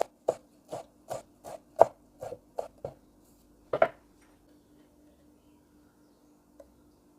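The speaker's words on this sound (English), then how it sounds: "Now hold it nice and tight and slice it across like this." A knife cutting through tightly rolled leaves on a board, about ten crisp, evenly spaced strokes in quick succession, then a pause, one firmer cut, and a faint final tap in quiet surroundings.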